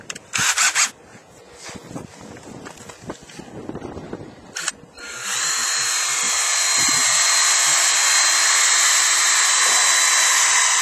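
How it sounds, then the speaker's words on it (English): Some handling clicks and rustling come first, then a power drill whirs steadily and loudly, boring into wood for several seconds. "Now I'm gonna pre-drill my hole."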